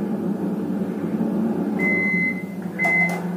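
An IFB convection microwave oven sounds its end-of-preheat alert: two clear electronic beeps, the first held for about half a second and the second shorter. Both ring out over a steady low fan hum, with no speech.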